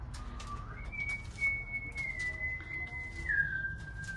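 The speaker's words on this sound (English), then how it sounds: "the whistling is not helping." A person whistles a long, steady, sustained note that dips slightly in pitch toward the end, heard fairly close over a quiet, hollow-sounding background inside the historic Yuma Territorial Prison in Yuma, Arizona.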